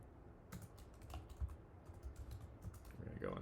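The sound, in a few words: typing a terminal command on a computer keyboard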